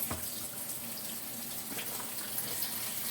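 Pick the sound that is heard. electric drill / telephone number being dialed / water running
water running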